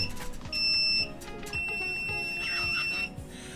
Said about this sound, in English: The timer will get you going.